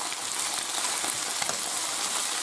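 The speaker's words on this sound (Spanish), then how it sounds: "ahora tenemos que echar la cebolla para sofreírla" Chopped onion sizzling and frying in a hot pan for a chicken and sausage rice dish, a steady dense crackle with no pauses, close and fairly loud throughout.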